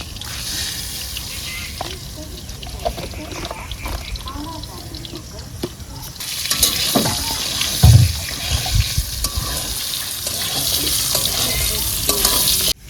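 Potatoes frying in a pan in a village kitchen, a continuous sizzling hiss with stirring clatters that grows louder midway, with a brief bump near the end.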